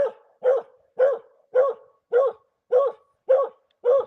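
A dog barks eight times in a steady, evenly spaced series, each bark loud, close and clear against silence, with no talking.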